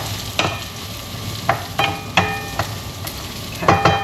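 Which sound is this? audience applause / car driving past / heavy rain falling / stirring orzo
stirring orzo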